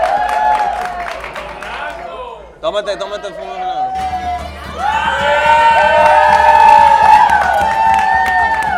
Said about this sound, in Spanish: Un aplauso para eso.